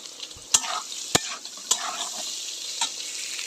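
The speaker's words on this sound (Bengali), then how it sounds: "আলু ভাজা তেলে সয়াবিনটা ভেজে নেব।" Soya chunks fry in oil left over from frying potatoes, with a constant sizzle under several sharp clinks and scrapes of a spatula against the pan.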